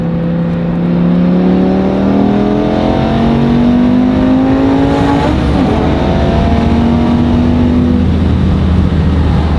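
A BMW S85 V10 engine swapped into an E46 M3 revs hard through the gears, its harmonic tone climbing steadily and loud with a brief shift break midway, then pulling again; no voices.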